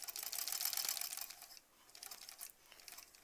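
A sewing machine stitches a back tack on a fabric bunny stuffed toy: a rapid, loud mechanical whirr that stops, then shorter bursts of stitching close by.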